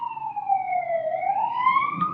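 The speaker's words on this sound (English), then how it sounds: "I'm gonna wait for that siren to pass." A police siren wails in a slow, sweeping tone as it passes at moderate distance, continuous and alone for about two seconds with faint background hum.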